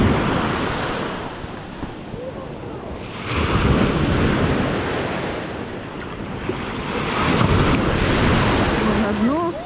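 Sea surf washing onto an Odessa beach on a cool October day, a steady broad roar of waves with gusts of wind buffeting the microphone and swells rising and falling throughout.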